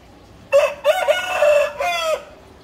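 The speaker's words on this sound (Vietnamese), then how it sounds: "Gáy to thế. Anh bạn ơi, gáy to quá." A rooster crows loudly at a Vietnamese plant market where banyan bonsai trees are sold, one long drawn-out crow with several rising and held segments, close and clear above quiet background.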